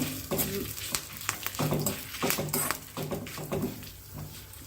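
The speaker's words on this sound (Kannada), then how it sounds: "ಇದಕ್ಕಿವಾಗ ಒಂದು ಸ್ವಲ್ಪ ಒಂದು ಹತ್ತು ಕರಿಬೇವನ್ನ ಹಾಕಿದ್ದೀನಿ ನೋಡಿ ಎಲ್ಲ ಚೆನ್ನಾಗಿ ಫ್ರೈ ಆಗಿದೆ" Curry leaves frying in a pan while being stirred, a soft steady sizzle with scattered crackles and light scraping clicks of a spoon, fairly quiet and close, with no voices.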